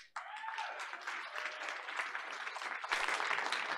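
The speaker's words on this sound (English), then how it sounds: "Let's give her a round of applause." An audience at a Board of Education meeting applauds for several seconds, dense steady clapping from many people that swells slightly near the end.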